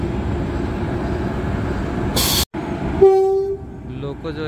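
The Lalkuan–Howrah train stands at a station platform while a locomotive is attached, giving a loud rumbling idle, a short burst of noise, then a sustained horn tone over the engine.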